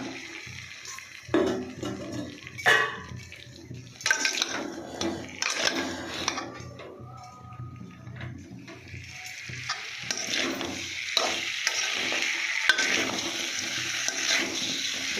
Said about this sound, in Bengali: আমি এবারে এটা দিয়ে দেবো, আলু আর ইঁচড়টা।